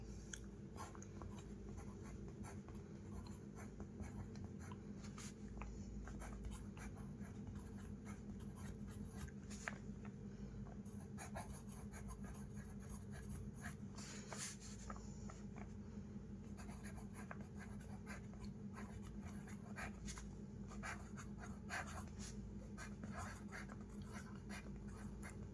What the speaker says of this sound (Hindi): तो चलिए हम लिख देते हैं आपका।